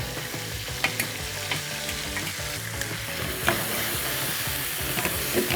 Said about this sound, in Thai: เราจะผัดส่วนผสม ให้เข้ากันนะครับ